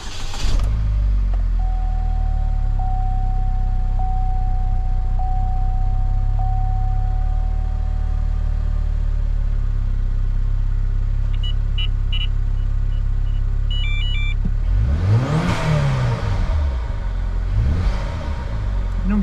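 A Chevrolet HHR SS engine runs at a steady, loud idle with a deep rumble throughout, a faint steady whine early on and a couple of brief revving swells near the end.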